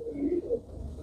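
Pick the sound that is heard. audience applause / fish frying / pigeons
pigeons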